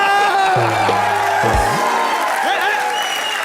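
Studio audience at a Hindi TV comedy show applauding and cheering loudly, a steady dense wash of clapping with whoops, while someone talks over it and tonal music or voices run beneath.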